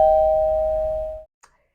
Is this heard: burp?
no